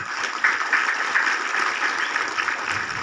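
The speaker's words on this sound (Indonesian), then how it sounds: "Tepuk tangan untuk pengurus Kuaran Aisesa." Crowd at the opening of a scout camp applauds the district scout council officials, a steady, moderately loud wash of clapping throughout.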